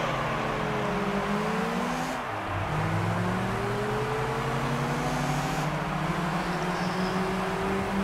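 A high-revving Honda VTEC engine screams in Gran Turismo 3 A-spec, its pitch climbing through each gear, dropping at a shift, then rising again in a steady loud drone.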